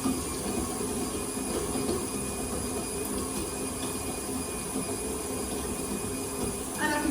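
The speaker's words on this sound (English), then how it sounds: "So I'm going to up the speed a bit more now. It just helps to throw the butter off the beaters." An electric mixer beats butter at a higher speed, a steady, fairly loud whirring drone that runs without a break for the whole stretch.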